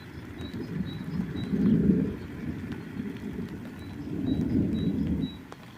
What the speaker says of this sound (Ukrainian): тільки грім гримить і все